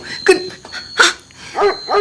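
A dog barks close by, four sharp separate barks spaced across a couple of seconds, clear and loud against a quiet background.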